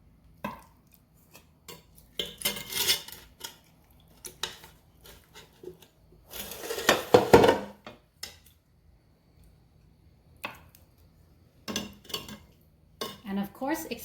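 Spoon scooping pork belly adobo, about five pounds of oily meat, out of a pot, giving scattered metallic clinks and scrapes with one longer clattering stretch midway, close and fairly quiet.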